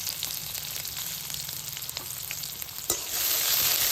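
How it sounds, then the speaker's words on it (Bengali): Bay leaf, chopped onion and green chilli dropped into hot mustard oil: a continuous close sizzle and crackle, with a sharp burst at about three seconds as more goes in and the frying grows louder. "তেল গরম হয়ে গেছে, ফোড়নে দিয়ে দিচ্ছি একটা তেজপাতা, পেঁয়াজ কুচি, কাঁচা লঙ্কা কুচি"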